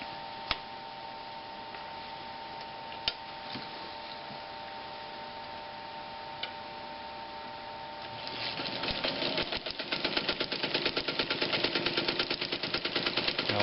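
Read's sailmaker sewing machine with a low steady hum and sparse ticks, then a loud run of rapid regular clattering stitches in the last few seconds, close by.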